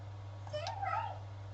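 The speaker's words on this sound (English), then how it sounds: "I made him meow" A cat in the game Stray gives a single short, soft meow that rises and falls, over a steady low hum.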